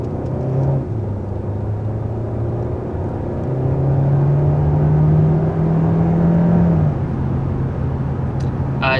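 A 2022 Hyundai Sonata in sport mode pulls away from a stop, its engine note humming and climbing in pitch as it accelerates, then shifting and rising again, heard steadily from inside the cabin.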